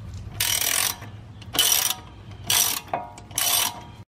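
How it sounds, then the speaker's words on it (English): Ratchet wrench turning out the 18mm caliper bracket bolts on a 2007 Cadillac Escalade, four separate bursts of rapid metallic clicking with short pauses between them, close and clear. "The caliper bracket comes off by removing two 18mm bolts."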